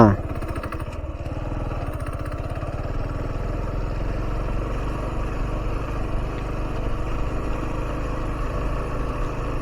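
A motorcycle engine runs steadily up close, a continuous low rumble throughout, with voices faintly present beneath it.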